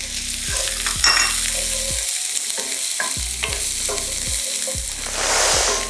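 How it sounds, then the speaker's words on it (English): Ginger and garlic sizzle in a hot pan for a plant-based pumpkin curry, a close, continuous fry broken by repeated spoon stirs and scrapes at a regular pace, with no voices. "Give it a minute to just sizzle here. Now goes in my ginger and garlic"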